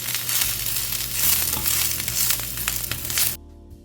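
Dry grated coconut roasts in a hot pan, a steady close sizzle and crackle with light scraping and stirring throughout, then cutting off abruptly near the end.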